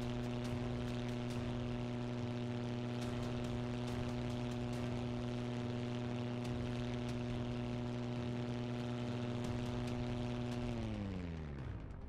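Propeller fighter engine in a Battle of Britain flight game (303 Squadron), a steady loud droning hum with strong harmonics throughout, winding down in pitch near the end.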